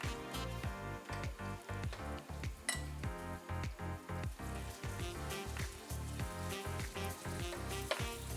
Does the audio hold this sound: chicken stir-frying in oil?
yes